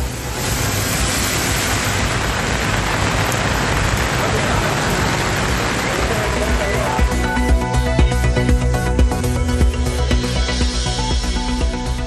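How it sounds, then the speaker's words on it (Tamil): Rain falls steadily in Kanchipuram, a dense, loud hiss with low traffic rumble mixed in, continuous across the whole stretch. "காஞ்சிபுரத்திலும் மழையால் குளிர்ச்சியான சூழல்"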